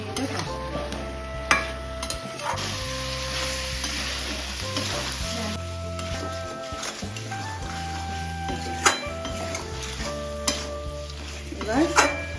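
Garlic, ginger and green chillies sauté in a pan for mutton korma, a steady soft sizzle with repeated stirring scrapes and occasional sharp clinks of utensil against the pan.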